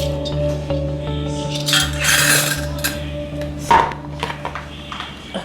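Chocolate chip cookie ingredients stirred in a bowl, with scraping, clinking utensil taps against the bowl and soft squishy mixing of dough, a steady handheld rhythm close to the microphone with a brief louder knock midway.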